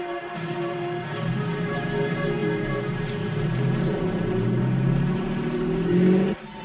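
A car pulling away while rain is still falling, a steady engine rumble and whir with a rising pitch as it accelerates, close and continuous throughout, ending abruptly.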